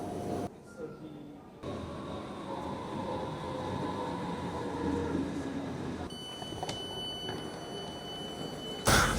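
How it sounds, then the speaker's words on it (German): A German S-Bahn commuter train, the S6 to Friedberg, rumbles steadily from inside the car, with a continuous low hum and faint high tones. Someone talks over it much of the time. "das ist jetzt die S6 nach Friedberg und das ist die letzte S-Bahn für heute"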